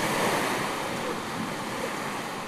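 Ocean surf washes onto a shore where migrating red crabs reach the sea, making a steady, broad rushing wash with a windy hiss. It stays continuous and fairly loud with no talking.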